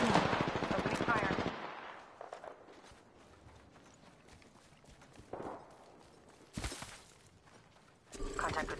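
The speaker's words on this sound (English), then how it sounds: "Opening fire." Automatic weapon fire in the Apex Legends video game: a loud, rapid burst opens close up, followed by quieter shots, footsteps and brief sharp bursts.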